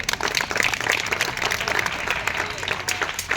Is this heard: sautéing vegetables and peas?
no